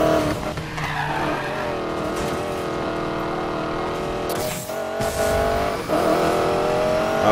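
Race cars speeding through a Need for Speed Payback street race, engines droning loudly and steadily with tires skidding and squealing through corners, a brief drop near the five-second mark before the roar returns.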